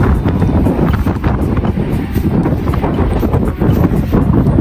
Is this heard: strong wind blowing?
yes